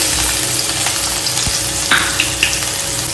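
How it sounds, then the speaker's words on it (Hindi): Chopped onions fry in hot oil in a kadhai with a loud, steady sizzle close by, broken by a few light clinks of stirring. "कढ़ाई में मैं डालूँगी थोड़ा सा ऑयल। अब इसमें मैं डालूँगी ऑनियन"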